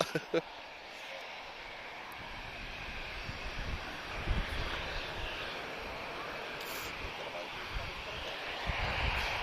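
Portuguese Air Force aircraft using the full runway at Lisbon Airport, its engine a steady broad roar that holds for the whole stretch, moderately distant, with faint wind noise over the microphone.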